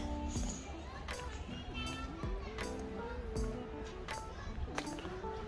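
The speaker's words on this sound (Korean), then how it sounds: "어린이집 근처를 지나가고 있는데 애기들 노는 소리가 너무 귀여워요" Small children play outside a large daycare in a quiet rural Japanese village, their voices rising in scattered squeals and chatter at a middle distance, with a nearer adult voice talking over them.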